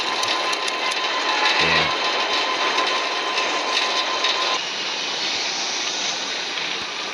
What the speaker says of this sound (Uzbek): Bu samolyot dengizga uchilyapti, to'g'ri dengizga.